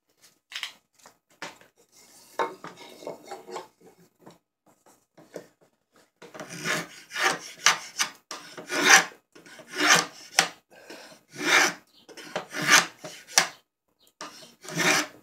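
A draw knife shaves cherry wood, starting with a few sparse, quiet scrapes and then settling into a steady run of about ten loud, rasping strokes at close range.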